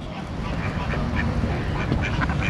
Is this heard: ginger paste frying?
no